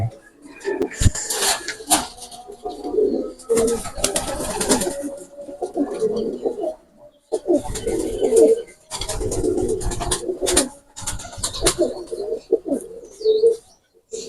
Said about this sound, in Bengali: এটা হলো মেন ব্রিড পিওর ব্লাড লাইনের কবুতর 128।